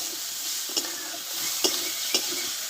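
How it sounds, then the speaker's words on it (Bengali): Spices, grated coconut and sugar stir-fried for a cauliflower curry, giving a steady soft sizzle with three sharp spatula scrapes against the pan, close and moderately loud, with no voices. "এক মিনিট মতো নাড়াচাড়া করে নেব"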